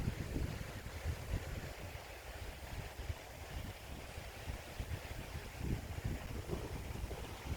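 Strong wind buffeting through a rugged Scottish glen at Loch Lomond, a continuous loud rushing roar with gusty surges and microphone rumble, no voices.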